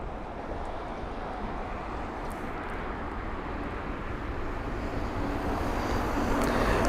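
Jet airliner rumble from an Emirates Airbus A380 arriving at London Heathrow, a steady broadband roar that swells slightly toward the end, with wind noise and no talk.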